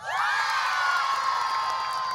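Crowd at a large Ramadan religious gathering in Indonesia erupting into loud shouting and cheering, a dense continuous roar of many voices that swells quickly and holds.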